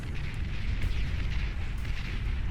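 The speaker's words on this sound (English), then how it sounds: "the sheer artillery barrage that's coming in" Artillery barrage in the real-time strategy game Beyond All Reason, a continuous deep rumbling roar of overlapping distant explosions with faint bursts scattered on top.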